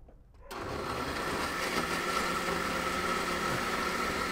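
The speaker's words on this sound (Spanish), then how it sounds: "lo voy a licuar y les voy a enseñar que sí" An electric blender starts abruptly after a quiet moment and runs at a constant loud whir, liquefying a borracha salsa for ribeye tacos, steady and close with no voices.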